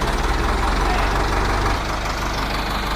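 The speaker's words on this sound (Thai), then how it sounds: "ฟังเสียงเครื่องยนต์กัน" A Ford 6600 diesel tractor engine idles close by with a steady, low, knocking rhythm that eases slightly partway through.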